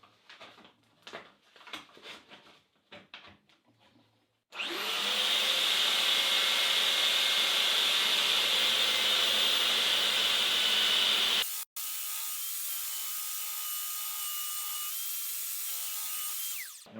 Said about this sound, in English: A few minutes on the belt sander.